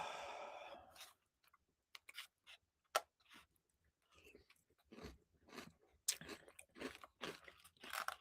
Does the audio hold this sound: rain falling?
no